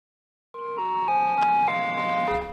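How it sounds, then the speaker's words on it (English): An ice cream truck plays its melody in a neighborhood, a clear, steady chime-like tune of sustained notes that starts suddenly after a short silence and stays loud and close throughout, with no talking. "The sound of an ice cream truck driving through a neighborhood can be the most exciting part of any child's day."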